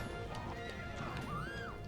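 Horse hooves and snorts from Zelda: Twilight Princess HD play under busy game audio, with a rising whistle-like tone partway through, and a voice briefly heard in the mix.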